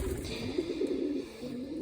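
Pigeons coo softly in a dovecote, a low, continuous burbling with repeated throaty phrases at close range and no voices.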